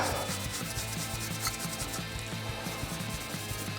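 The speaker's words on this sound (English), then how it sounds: "I put some spirit on and just rub it in" A spirit-soaked dishcloth rubs over a car distributor for a single-turbo Supra NA-T build, making a close, steady scrubbing sound with quick repeated strokes.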